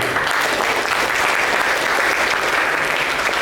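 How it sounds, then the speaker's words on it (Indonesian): An audience at an Indonesian civic outreach session on Pancasila ideology claps loudly and continuously, a thick, even roar of applause with no pauses. "Tepuk tangan untuk beliau"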